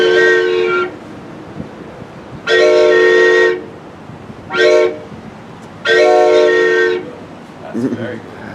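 A train horn sounds four times, two long and two short, loud and close, with a quiet pause between blasts and a brief voice at the end.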